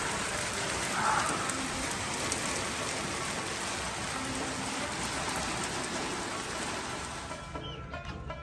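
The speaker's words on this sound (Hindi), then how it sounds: "विलेज में जी रात से ही बारिश आ रही है और अब भी जो है ना बारिश का मौसम है।" Rain keeps falling over a village after a night of showers, a steady soft patter of drops on surfaces that holds evenly and thins out near the end.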